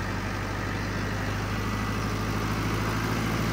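A Mahindra Arjun Novo tractor engine held at 1700 rpm, droning loudly and evenly up close with a deep, constant rumble and no break.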